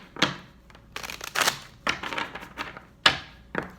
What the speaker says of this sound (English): And I'm going to shuffle one more time.